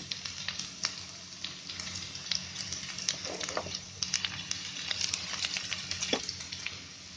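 Ivy gourd (tendli) shallow frying in hot oil in a pan, a steady soft sizzle with scattered crackles and pops, fairly faint and with no talking.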